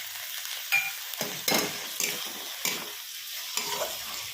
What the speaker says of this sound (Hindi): अब मसाले को हम और थोड़ा सा भूनेंगे